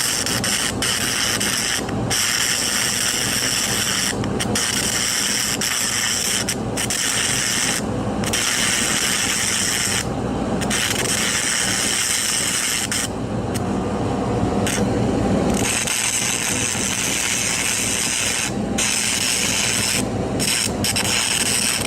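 Stick welding with a 6010 rod on an AC-capable stick welder, electrode negative at about 120 amps: a steady, loud crackling hiss runs continuously with brief breaks in the arc, no talking.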